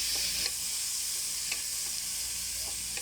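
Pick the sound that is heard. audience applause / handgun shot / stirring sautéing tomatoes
stirring sautéing tomatoes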